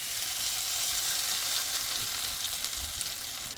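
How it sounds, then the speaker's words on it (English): Shredded pork loin and cabbage mixed with potatoes fry in a pan like hash browns, a steady bright sizzle with soft crackles, fairly quiet and close, with no talking. "we're going to pan fry this just like hash browns"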